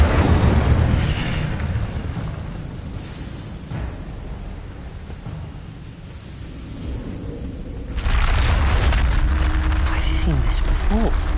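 Incendio fire spell in Hogwarts Legacy, a roaring, rumbling blast that swells up suddenly near the end after a quieter stretch, with a voice talking over parts of it.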